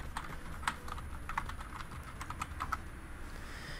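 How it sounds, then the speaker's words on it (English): Quick, light keystrokes on a computer keyboard, clustered clicks near the start and scattered taps later, close and fairly soft over a faint continuous hum. "Can't type today."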